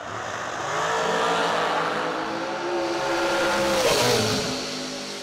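Drag race cars launch side by side down the strip at a summer bracket event, engines roaring loud and sustained with rising revs and a sharp crescendo midway, no talk over it.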